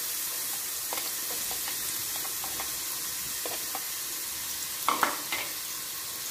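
Onion and garlic frying in lard give a steady, dense sizzle throughout, with occasional stirring clicks and a louder scrape near the end, close up and without talk.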